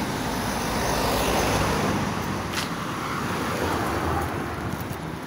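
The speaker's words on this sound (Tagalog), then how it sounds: "Traffic kasi uwian eh." Steady rush-hour road traffic in Cyprus rolls past in a continuous broadband wash, with cars passing close by and some wind buffeting on the microphone. No one speaks.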